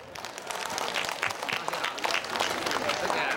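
A crowd claps steadily for Mr. Zhu Nan at a temple celebration of Zhao Sheng Di Jun's birthday at Yongchang Palace, Jiali. The applause is dense and continuous, with voices mixed in.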